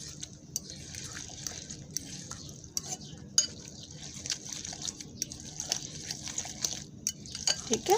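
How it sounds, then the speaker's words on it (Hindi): Batter being stirred and mixed in a bowl, with repeated soft wet sloshing strokes and light clicks of the utensil against the bowl, close and fairly faint. "अब इसे हम अच्छे से मिक्स कर लेंगे।"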